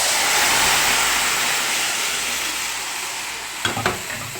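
Rice is stirred into fried vermicelli in a pot under a steady, loud sizzle, and a couple of scraping spoon strokes come near the end, with no talking.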